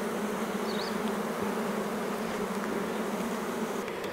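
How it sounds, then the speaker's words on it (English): Honey bees buzzing around an open hive during inspection, a steady dense drone close by that holds evenly without pause, with no voices over it. "very, very busy bees"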